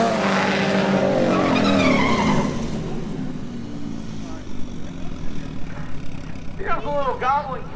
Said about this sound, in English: Here's a little Goblin kit car.